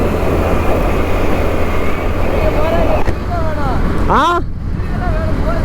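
A motorcycle riding at high speed on the road: steady loud engine and wind roar throughout, close and continuous, with a short exclamation from a rider near the end.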